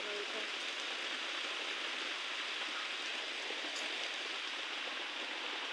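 Heavy monsoon rain pours down steadily, with water running and splashing beneath a cattle shed, a dense continuous hiss that lasts throughout with no voices.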